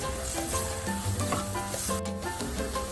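Finely chopped onions and green chilies fry in oil in a pan, giving a steady close sizzle broken by clinks and scrapes of stirring, with no talking.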